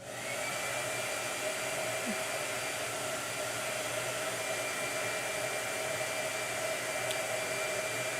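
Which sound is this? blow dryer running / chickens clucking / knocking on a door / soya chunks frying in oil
blow dryer running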